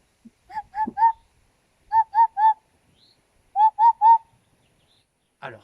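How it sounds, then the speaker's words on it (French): Eurasian hoopoe song: three clear runs of soft, hollow, low hooting notes, each a quick set of three evenly spaced 'hoop' calls, repeated alone against a quiet background. "il s'agit de la huppe. Et pour être plus précis, la huppe faciée. Elle chante comme ça."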